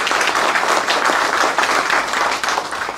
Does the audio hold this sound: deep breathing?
no